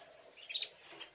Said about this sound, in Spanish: Ahí están los pajaritos